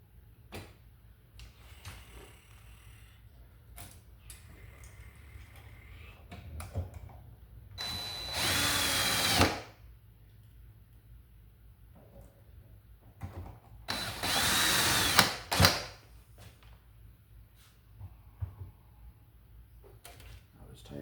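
A power drill drives screws into a plug mold raceway in two loud, close bursts of a few seconds each, separated by quieter clicks and handling noise.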